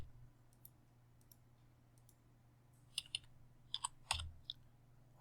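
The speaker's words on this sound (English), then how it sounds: "I just typed DL on my keyboard" Sparse keystrokes on a computer keyboard while drafting in design software, with a few quiet clicks and then a short cluster of sharper taps against a low steady hum.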